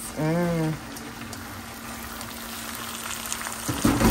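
Shrimp frying in a pan alongside fishballs, a steady close sizzle running throughout, with a brief tonal beep near the start and a clatter toward the end.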